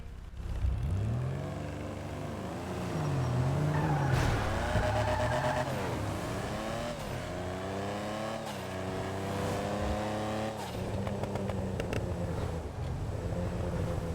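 The Stirling GT sports car engine in GTA 5 Online revs loudly and steadily, its pitch climbing and falling through repeated throttle blips, then crackling and gargling as the gas is lifted near the end.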